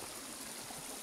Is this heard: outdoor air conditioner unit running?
no